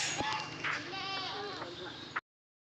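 Goats bleat in wavering, quavering cries close by, then the sound cuts off abruptly into silence.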